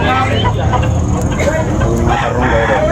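Rooster crowing at a busy chicken market in Tabunok, Cebu, with other fowl clucking amid steady crowd chatter and people talking nearby.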